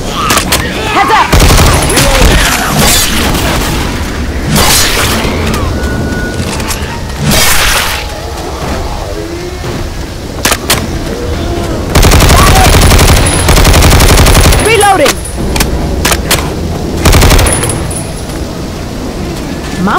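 Rapid bursts of automatic gunfire in the zombie shooter Left 4 Dead 2 on a derailed train level, loud and close, with repeated volleys broken by short gaps and occasional character shouts.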